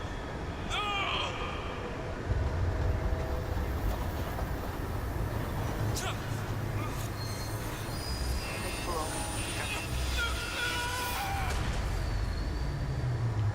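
In a video game, a train rumbles past with squealing wheels and metallic clatter as it runs over a man, a dense continuous roar with scattered sharp screeches throughout.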